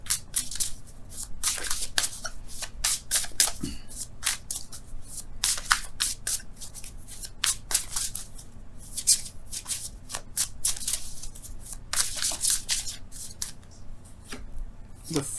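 Tarot cards are shuffled by hand up close, with repeated crisp riffling and flicking bursts that come and go in quick uneven runs, and a voice talks faintly underneath.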